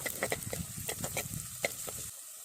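Finely chopped ginger is stirred into shallots frying in a pan, with soft, quiet spoon scrapes and light sizzling crackles for a couple of seconds before the sound cuts off.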